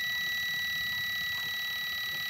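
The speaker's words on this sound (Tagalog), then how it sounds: "Ito naman yung spin timer natin." A purely mechanical spin timer rings out with a steady, sustained high-pitched alarm tone that continues unbroken, loud and close, with no talking.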